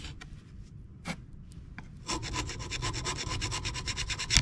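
A tool end scraping rust-jacked brake parts, giving dense rasping, filing-like strokes that build from scattered scratches into steady close scraping over the second half.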